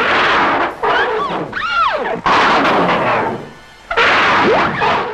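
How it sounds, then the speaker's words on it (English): Loud, harsh roaring bursts with swooping, distorted cries and crashing noise, the Loch Ness Monster of a tokusatsu show bellowing in several blasts separated by brief pauses. "A show in which the Loch Ness Monster sounds like this."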